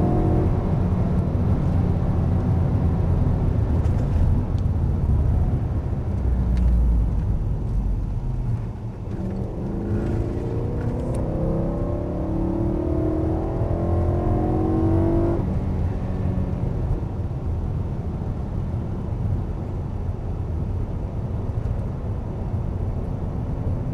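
BMW M3 on a straight at the Michelin test centre near Salon-de-Provence, engine droning loudly from inside the car at full throttle, pitch climbing through a gear as it keeps accelerating.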